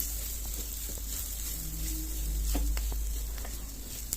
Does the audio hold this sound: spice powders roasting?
yes